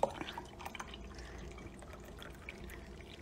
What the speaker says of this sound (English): We're gonna get the creamer and we're going to pour it in the cup first.